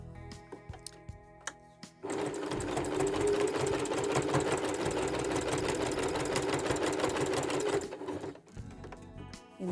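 A sewing machine quilting a small log cabin mug rug runs in one steady, close burst of rapid stitching for about six seconds, with a few soft clicks and handling sounds before and after.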